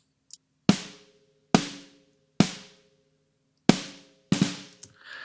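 Layered snare drum trigger samples fired together during a beginner drum mix, five sharp, loud hits spaced about a second apart, each with a bright crack and a short ringing tail, heard alone.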